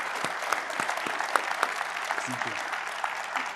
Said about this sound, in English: please join me in a round of applause for Agriculture Commissioner Dr.